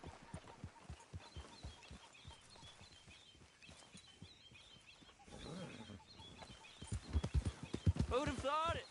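Horse hooves clip-clop steadily on the ground in Red Dead Redemption 2, a continuous rhythmic patter under occasional men's speech, with a whinny and some clucking fowl toward the end.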